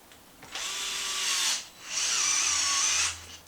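A power tool tightens a bolt on a WideMaxx front suspension arm, whirring in two sustained, high-pitched bursts of about a second each with a short pause between them.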